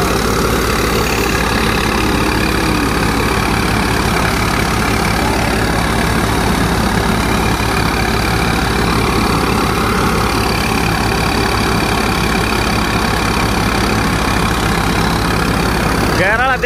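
A tractor-driven thresher machine runs steadily at Mukandgarh, a loud continuous engine drone with a rhythmic mechanical churn, close by and unbroken throughout, with voices faintly present.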